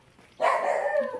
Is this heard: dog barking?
yes